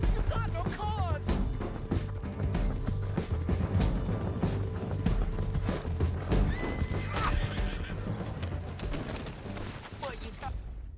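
A horse neighs repeatedly over rapid hoofbeats as it gallops in the video game Red Dead Redemption 2, with creaking tack and game sounds, and someone talking now and then.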